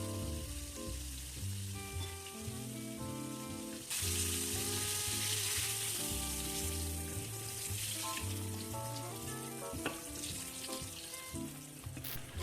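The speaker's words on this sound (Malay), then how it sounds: "goreng lama sikit untuk bagi lagi garing tepung dia" Battered squid sizzles and crackles steadily in hot oil, a dense continuous hiss with soft background music and no talking.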